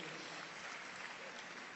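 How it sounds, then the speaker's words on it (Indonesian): A church congregation gives God a steady wash of applause, many hands clapping together in a dense, even burst that stays fairly quiet and constant. "Berikan tepuk tangan yang meriah buat Tuhan."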